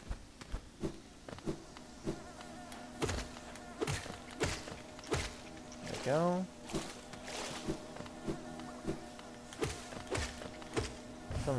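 Bees in Hollow Knight drone in a low, continuous buzz beneath a voice, while sharp repeated thumps and hits from combat punctuate the scene and one swooping effect rises midway.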